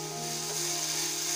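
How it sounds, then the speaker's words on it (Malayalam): Ground paste frying in a pan for a chicken vermicelli biryani, a brief, steady, close hiss of sizzling with a low hum under it and no talking. "പേസ്റ്റ് രൂപത്തിൽ അരച്ചെടുത്തത് ഇതിലേക്ക് ചേർത്ത് കൊടുക്കുക. നല്ല രീതിയിൽ ഇളക്കി വെക്കുക."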